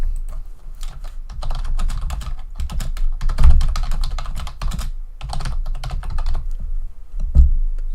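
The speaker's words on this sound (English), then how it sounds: "I just have a loud keyboard" Fast, loud clicking of a computer keyboard being typed on, a dense continuous clatter of keystrokes with a few heavier thumps, close and alone with no voices.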